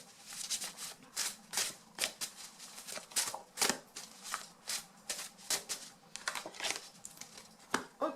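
Oracle cards shuffled by hand for a dream-oracle reading, a run of quick close papery riffles and slaps in uneven bursts, fairly quiet and with no voice over them.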